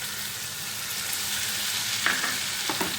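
Tomato paste hits a hot pan for a Bengali katla kaliya fish curry, giving a loud, constant frying hiss, then a few sharp scraping stirs near the end.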